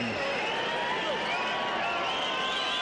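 Dense crowd of boxing supporters gathered before giant screens in Frankfurt for an Axel Schulz heavyweight fight, a steady, continuous murmur and roar of many voices filling the space without letup.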